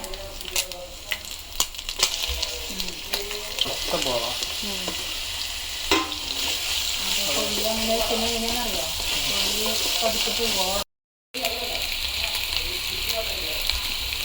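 Onions fry and sizzle in a pan with garlic paste while being stirred, a steady close crackle with scraping stirs, as people talk over the cooking throughout and one brief dropout interrupts it.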